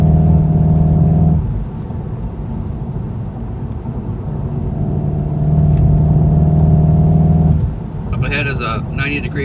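Car accelerating hard on the historic Elkhart Lake road race circuit, engine droning loud and near in long rising pulls with a gear-change dip, a voice talking over it.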